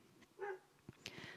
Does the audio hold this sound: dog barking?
yes